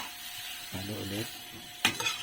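Vegetables being stirred in a pan for ginataang gulay with shrimp, with a steady sizzle and a short scrape of the utensil near the end.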